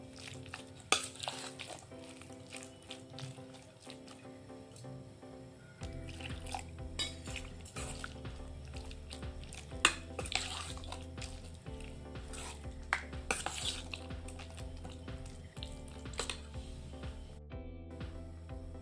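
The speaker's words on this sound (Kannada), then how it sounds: "ಈಗ ಸ್ವಲ್ಪ ನೀರು ಹಾಕಿ ಮಿಕ್ಸ್ ಮಾಡೋಣ." A spoon stirs rava and potato breakfast batter in a bowl as water is mixed in, making soft, quiet scraping and sloshing sounds with occasional light clinks against the bowl.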